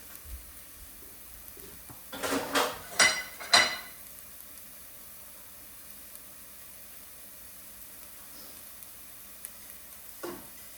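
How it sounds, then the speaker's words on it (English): Food sautéing in a pan gives a few short sizzling bursts in the first seconds, then fades to a faint steady hiss with one more brief crackle near the end. "You saute that, okay?"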